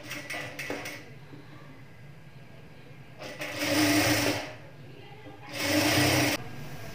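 A sewing machine stitches a blouse in two sustained bursts of whirring, preceded by brief stop-start runs, with quiet pauses between and no talk.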